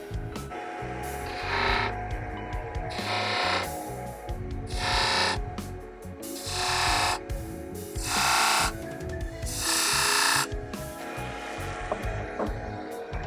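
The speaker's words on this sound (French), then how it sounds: "On reprend le bédane et on va faire combien de rainures?" A mortise chisel cutting a series of grooves into wood, with repeated scraping strokes that come in bursts roughly every second or two over a background of workshop clatter, close and clear, with no speech.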